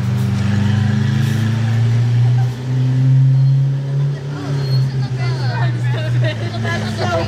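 A Lamborghini SVJ drives by on a Monaco street, its deep engine growl swelling loud and close, then fading under a background of crowd chatter.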